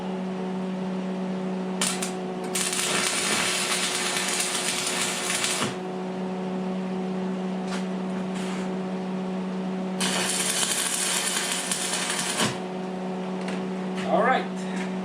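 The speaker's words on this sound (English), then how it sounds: "Alright, so let's start to do some weld." An anti-theft chain is welded onto a Columbia Extreme auger 13 hp 33-inch snow blower, with two long bursts of steady crackling welding arc over a constant electrical hum, plus a few brief sparks in between.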